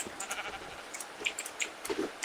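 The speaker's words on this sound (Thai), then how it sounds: "ตีแกะอยู" Sheep in the Minecraft video game give a few short, faint bleats scattered through the moment, mixed with light in-game clicks and thuds.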